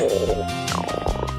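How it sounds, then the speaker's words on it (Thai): A cartoon elephant's stomach growls in a Thai children's learning show, a loud low rumbling gurgle lasting just over a second with no speech. "ท้องร้องแล้วเนี่ย"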